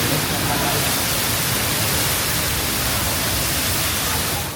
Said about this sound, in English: You hear how loud all the water is coming down?